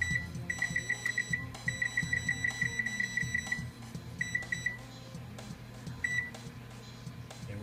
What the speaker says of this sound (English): And I'll set my timer for 20 minutes.